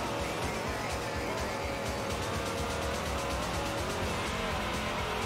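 Racing car in the off-road racing game MotorStorm: Pacific Rift, its engine roaring steadily and loudly throughout with tire and skid noise mixed in, a dense continuous mechanical roar with a faint voice underneath.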